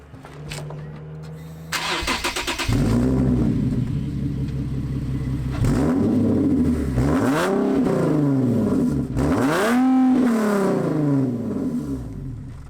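A Nissan 370Z engine cranks and starts, then idles with a deep rumble and revs up a few times, fairly loud and close.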